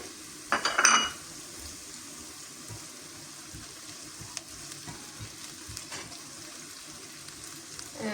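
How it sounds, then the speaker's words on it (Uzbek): Bell peppers are stirred into browned onions in a pan for tomato bulgur pilaf; a brief clatter of a utensil leads into a soft, steady frying sizzle with faint stirring ticks. "Bolgarskiyimizni solib, bir-ikki marta aylantirib qovuramiz."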